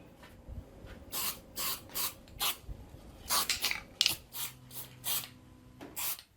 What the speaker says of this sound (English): I'm just going to give it a quick spray of a light undercoat to just to try and fill up any dags that are in there